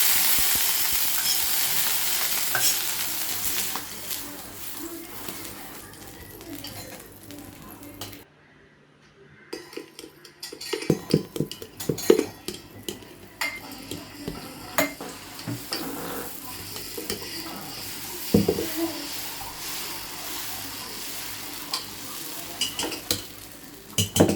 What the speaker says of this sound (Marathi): आता आपण झटपट आपले डोसे करून घेऊया.